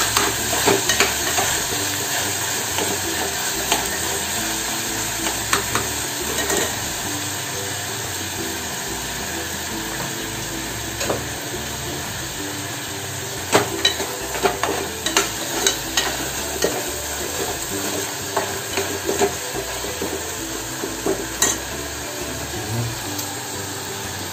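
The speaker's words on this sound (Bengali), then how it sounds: "সেটা একটু ভালো করে আমি একটুখানি ভাজবো।" Kashmiri chilli fries in a pan with a constant close sizzle. Frequent scraping and tapping of a spoon stir it through, getting busier toward the end.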